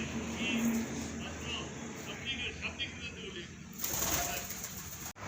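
Pigeons fed grain at a temple feeding spot, soft cooing and wing flutters mixed into a busy outdoor murmur, with a burst of louder flapping partway through.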